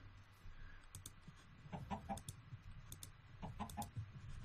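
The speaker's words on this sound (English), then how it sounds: "Come on, chickens." Quiet clucking from chickens in Minecraft comes in short scattered bursts, mixed with soft clicking like keyboard taps, with no talking.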